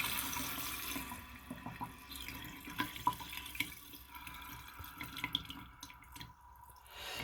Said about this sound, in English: Alright, so I'm going to turn the sink on